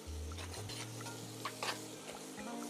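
Ingredients being mixed in a frying pan, with steady scraping and stirring over a low, continuous sizzle and a few soft clinks of utensil against the pan, close and fairly quiet.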